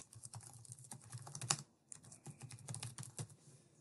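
Fingers typing on a computer keyboard at a library search page, a steady run of close, light key clicks with a brief pause in the middle.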